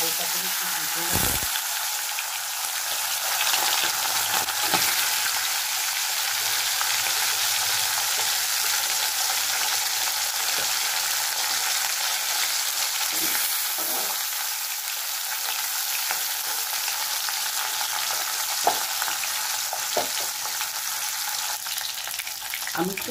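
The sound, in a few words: tilapia fish frying in hot oil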